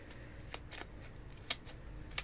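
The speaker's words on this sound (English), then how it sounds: "we're going to put it back in and shuffle for one more card" Tarot cards are shuffled by hand, giving soft riffling rustles with a couple of sharp snapping flicks, close and fairly quiet, with no talk.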